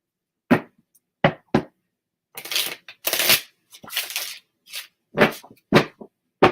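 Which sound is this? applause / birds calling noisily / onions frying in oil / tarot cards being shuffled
tarot cards being shuffled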